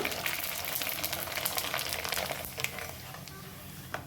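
Rice papad frying in hot oil, a steady close crackling sizzle with dense bubbling that eases slightly toward the end, with no talking over it.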